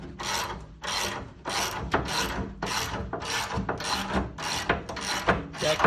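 Spring compressor being cranked on a coil spring during removal from a 1965 Chevy II, a rhythmic series of about nine rasping, ratcheting strokes, close and moderately loud.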